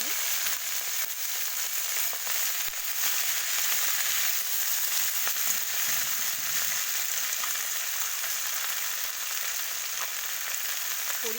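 Chopped ghetkol leaves fry in hot oil with a steady, loud, hissing sizzle that runs unbroken throughout, no voices over it.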